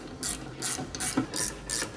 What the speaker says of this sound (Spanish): Ajustamos los tornillos